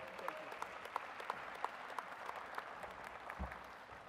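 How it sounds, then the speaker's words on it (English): A graduation crowd applauds the principal, a broad wash of distant clapping with a few sharper nearby claps standing out at fairly regular intervals. "Give a big round of applause to your principal one more time."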